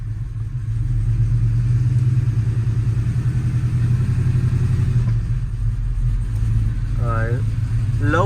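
A 450hp cammed truck engine rumbling loudly inside the cab, a deep choppy lopey idle that swells as it revs during pulls, close and steady, with a brief voice near the end.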